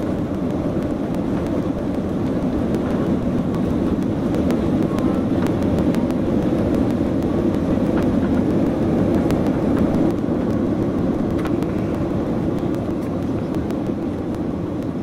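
A Ukraine International Airlines airliner accelerates for takeoff toward Paris, heard from inside the cabin as a loud, steady engine roar and rumble that holds constant throughout with faint rattles.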